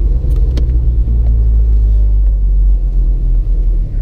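A Porsche 986 Boxster S cruises on the road, its engine and road rumble loud, steady and close. No one speaks.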